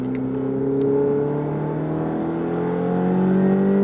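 A Ferrari accelerates on a race track at Issoire, its engine note rising steadily in pitch with a loud, sustained drone heard from close inside the car.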